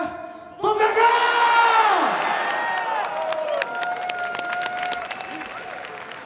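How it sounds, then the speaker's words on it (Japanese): A crowd at a RIZIN Trigger mixed martial arts event breaks into loud applause and cheering in an arena, with whoops rising over the clapping while an amplified voice speaks over the din. "今一度盛大な拍手をお願いします"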